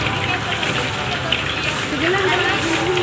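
Rain falls steadily outdoors with a constant hiss and patter, while people talk over it close by.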